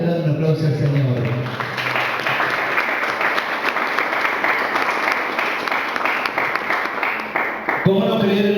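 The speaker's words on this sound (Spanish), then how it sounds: "¿Cuántos le dan un aplauso al Señor?" A church congregation breaks into loud, sustained applause lasting several seconds, with a voice speaking briefly before and after.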